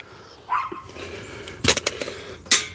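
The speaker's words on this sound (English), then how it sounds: "Or are you just gonna sit there and bark?" A dog barks a few times at a hot outdoor spot, sharp yips and barks at moderate distance mixed with a whimpering tone and some background noise.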